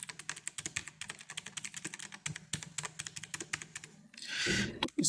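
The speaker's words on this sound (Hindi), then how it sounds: "यहाँ पे न्यूमेरिकल कीबोर्ड जो भी है हम इसमें प्रेस करते हैं" Rapid clicky key presses on the numeric keypad of an HP GK400F mechanical keyboard, dense uneven bursts of close clacks with a brief rustling swish near the end, no voices.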